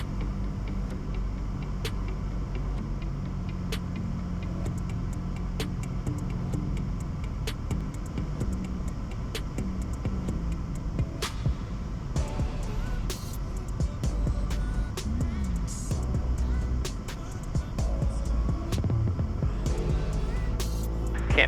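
A Cessna Skyhawk light aircraft drones steadily through final approach to runway 36 at Canton with flaps at 30 degrees, then goes around. The engine hum is constant and close, with radio transmissions and cabin noise layered over it.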